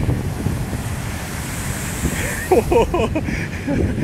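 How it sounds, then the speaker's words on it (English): Ocean waves break on a rocky shore, a steady roaring wash under wind buffeting the microphone, with a brief vocal-sounding burst near the middle. "that's a good wave"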